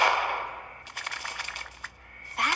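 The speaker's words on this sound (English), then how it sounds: "you say your seed shotgun will allow a single worker to plant an entire field with one shot" A cartoon seed shotgun fires as a quick rattling burst of sharp clicks and snaps lasting about a second, followed by a brief high whistle.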